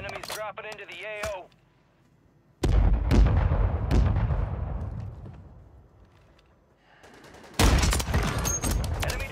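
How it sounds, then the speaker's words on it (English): Mortar strike explosions in Call of Duty Warzone, a series of heavy booming impacts with long rumbling decays, separated by short gaps, loud and close, with players talking over the game in between. "Mortar strike on the way."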